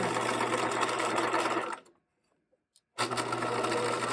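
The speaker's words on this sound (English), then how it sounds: "At my machine, I am ready to sew up my out seam that I've pinned." A sewing machine stitches the out seam of a pair of shorts in a loud, close, steady run. It stops for about a second with near silence, then starts again at full speed.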